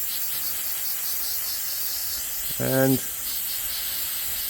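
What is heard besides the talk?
spraying an aerosol cleaner can on a car part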